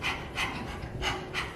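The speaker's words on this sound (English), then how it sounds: "It's like you're panting." Rapid rhythmic breaths forced through the nose during a yoga breathing exercise, four quick sharp puffs at an even pace, close and fairly quiet, with no talking.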